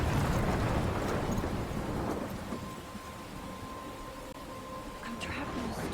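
A video game thunderstorm in Life is Strange, with a heavy roar of rain and rumbling thunder that fills the scene, then settles into a steady downpour with a faint tonal hum underneath.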